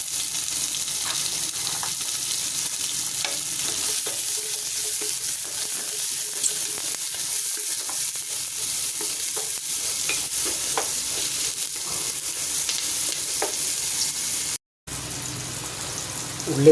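Onions, garlic and green chilies sauté in a pan for a curry, giving a steady, close sizzle with frequent small crackles and scrape-like stirring throughout, broken by a brief silent gap near the end.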